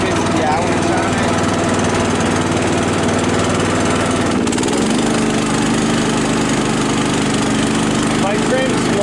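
A Cub Cadet riding mower with about 150 hours on its engine runs steadily and loud, its drone shifting in pitch partway through as the engine note drops, with a person talking over it.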